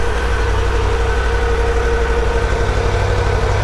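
A 2023 Triumph Tiger 1200 Rally Pro motorcycle engine idles close by after start-up, a steady, loud, even rumble with a fine pulsing throb and no speech.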